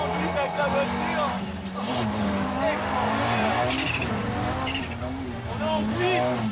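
Audi Quattro S1 Group B rally car in a sustained slide, engine roaring steadily with intermittent tire squeal, recorded from nearby with someone talking over the noise.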